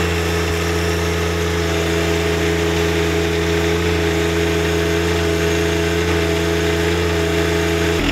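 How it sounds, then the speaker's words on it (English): A John Deere 1025R compact tractor engine held at wide open throttle, a loud, steady, close droning roar with no change in pitch from start to finish. "so that was a wide open throttle"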